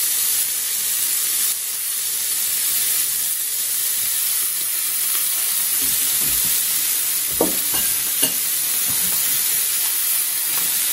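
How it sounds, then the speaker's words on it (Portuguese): Meat sizzles steadily in a hot pan with a constant broad hiss, with a few soft knocks of utensils partway through. "Aí vai fritando a carne aí."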